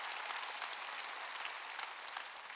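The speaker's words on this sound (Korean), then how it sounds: "깨달은 사람만 박수치라고요." A congregation claps at a sermon, a steady wash of many hands close and even throughout, with no voices over it.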